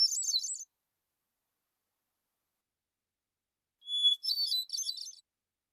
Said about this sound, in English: you'll remember that is the song of the hermit thrush.